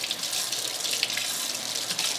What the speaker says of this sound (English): we'll wash it off here in our sink